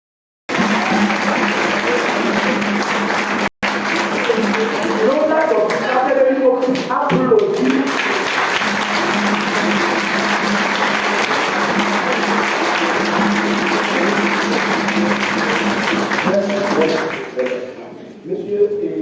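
Church congregation at an evening revival service applauding together, loud continuous clapping that swells and carries on for most of the stretch, with voices mixed in beneath it.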